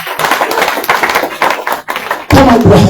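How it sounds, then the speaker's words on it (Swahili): A church congregation clapping their hands for Jesus, dense rapid applause filling the room, growing louder toward the end, with a voice briefly over it. "Pigie makofi Yesu mazuri."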